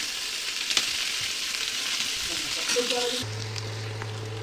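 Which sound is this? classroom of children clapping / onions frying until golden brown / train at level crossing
onions frying until golden brown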